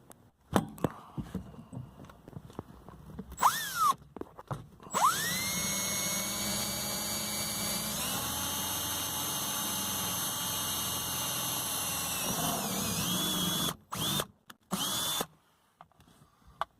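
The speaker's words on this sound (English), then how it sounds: "So I'll drill them out and then go from there." A power drill whirs up and runs steadily for several seconds, drilling holes in plastic trim inside a Toyota Prado, pitch dipping slightly as it bites, then stops with short bursts.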